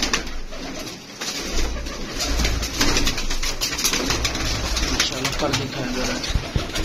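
Pigeons coo repeatedly close by in a loft kept for sale, soft throaty calls over rustling, with someone talking over them.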